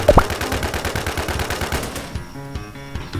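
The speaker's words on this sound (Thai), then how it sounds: "มันยิงปืนมันยิงปืนระวัง" Rapid automatic gunfire rattles in a fast, continuous burst, then slows into a few separated shots, loud and close.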